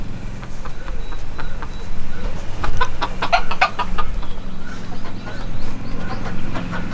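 Chickens of a red mottled flock cluck and call in an outdoor aviary, a steady mix of near and farther clucks with a few sharper calls, alone without talk.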